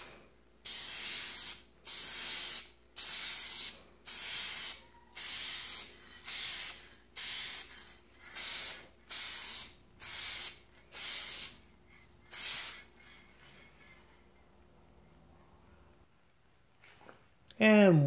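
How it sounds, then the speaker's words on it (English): Spray gun lays a light second coat of paint on a Ford hood, its hiss coming in about a dozen even bursts of a second or so each, close and loud, then a quiet tail. "now it's time to apply a nice light second coat."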